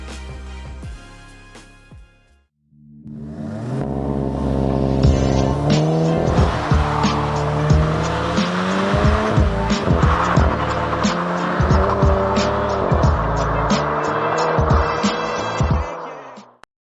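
A VW Golf 7.5 GTI launches hard from a standstill after a brief idle: the engine note surges loud and rises through the gears, overlaid with sustained screeching tire squeal, then cuts off abruptly.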